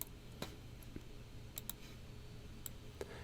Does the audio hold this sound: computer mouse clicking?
yes